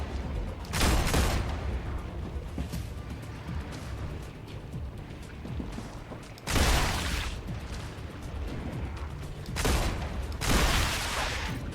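Sustained bursts of turret gunfire in the video game StarRupture, a dense continuous crackle of shots with three louder volleys swelling over the steady barrage.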